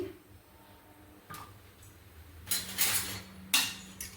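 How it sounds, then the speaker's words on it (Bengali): A wok set down on a gas stove with refined oil poured in, giving a few sharp metallic clinks and clatters in a quiet kitchen, with two brighter bursts of pan noise toward the end. "এবার আমি একটা গ্যাসে কড়াই চাপিয়ে দিচ্ছি, ওর মধ্যে আমি রিফাইন্ড অয়েল দিচ্ছি।"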